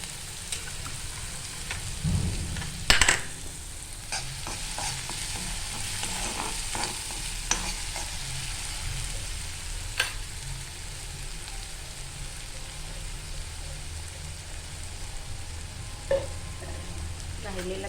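Chopped onion tipped into hot oil with cumin seeds in a pan sends up a steady close sizzle, punctuated by a few sharp clatters and scrapes of stirring, with no talking.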